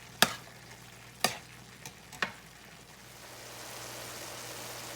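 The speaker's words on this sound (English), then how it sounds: "I'm going to go ahead now and add my onions and peppers. And just let all that start cooking together" Ground beef with onions and peppers cooking in a pan, a few sharp stirring clatters early on, then a soft, steady sizzle building underneath.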